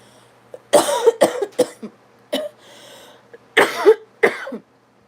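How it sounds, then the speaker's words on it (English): A series of harsh coughs in uneven bursts, some doubled, with short pauses between, close and loud, then a final pair of coughs. "Oh my God, I can't get rid of this cough."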